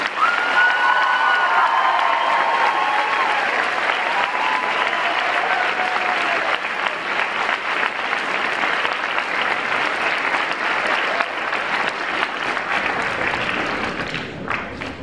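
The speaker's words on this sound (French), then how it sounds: "Je vais demander aux finissants d'applaudir toutes ces personnes." Sustained applause from the audience at a school graduation ceremony marking the end of studies, a dense crowd clapping with scattered cheers and shouts, holding steady for about fifteen seconds before tapering off near the end.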